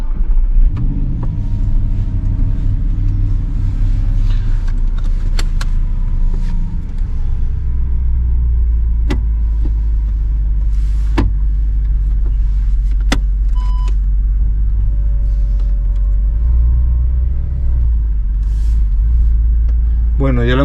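An Audi R8 drives while its gearbox is tested, with a steady low engine rumble and road drone throughout, a few shifts and clicks along the way, and a person talking over it.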